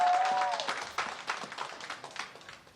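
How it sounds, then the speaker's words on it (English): A group of staffers clapping together, a dense, loud patter of claps that starts strong and gradually thins and fades over a few seconds, with a brief tone sounding at the very start. "That's all her staffers clapping that too."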